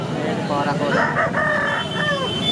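A fighting rooster at a poultry market gives a clear, nearby crow in several drawn-out harmonic pulses. Faint crowd murmur sits underneath.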